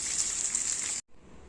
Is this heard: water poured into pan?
yes